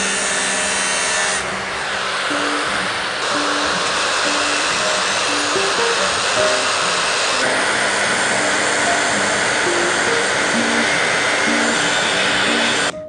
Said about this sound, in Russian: Так что пополам пилим.